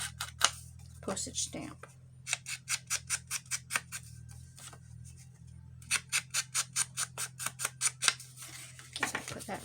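Scissors snip around the edges of an inked paper stamp for a spring bird journal, a fast rhythmic run of crisp close cuts in two bursts, with a person talking in between.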